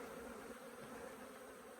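Honey bees from a young colony buzzing at an open hive, a dense, steady hum heard close and continuous without pause.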